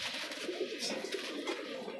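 Pigeons in a Madrasi pigeon loft coo in low, soft, repeated calls close by, overlapping into a steady murmur with a few brief brighter sounds above.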